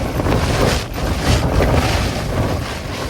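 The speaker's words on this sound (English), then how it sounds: "But I've gotten a few gusts." Strong wind gusts buffet and rumble against a tent and the microphone in uneven surges, a loud, continuous roaring in the mountains.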